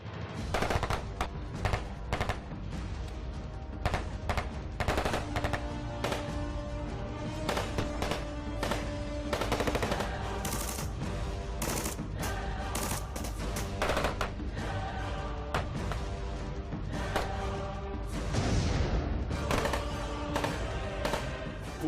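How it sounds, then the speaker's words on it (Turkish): Dense automatic and single-shot gunfire from a live-fire exercise on a commando course, with rapid cracking bursts that continue almost without pause, loud and close, with no talk. "Atış serbest."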